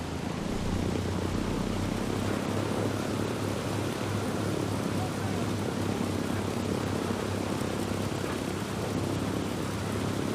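A plane flies in Ghost Recon Breakpoint, a loud, steady broadband engine and wind roar that holds constant throughout without talk.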